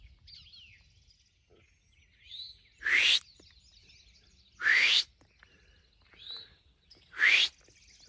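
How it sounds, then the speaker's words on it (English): Brown-headed nuthatch calling in a misty early-morning North Carolina woodland: three loud, squeaky, toy-like notes spaced a couple of seconds apart, with softer chirps from other birds between them. "Brown-headed nuthatch up there."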